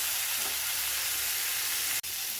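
Eggplant sautéing in a pan with tamarind for a tomato-eggplant chutney, a steady close hissing sizzle throughout, broken by one sharp click near the end; no talking.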